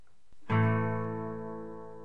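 A single guitar chord on three strings is strummed once, quietly, and left to ring out and slowly decay.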